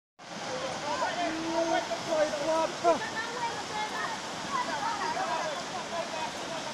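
River water rushing steadily in Clarendon, Jamaica, a broad continuous wash that runs the whole time, with voices speaking over it and brief louder splashes mixed in.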